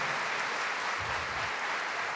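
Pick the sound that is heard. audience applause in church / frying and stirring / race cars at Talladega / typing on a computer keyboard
audience applause in church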